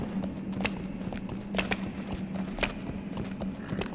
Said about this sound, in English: My horse is like clippity-cloppeting all the way up to Dwarven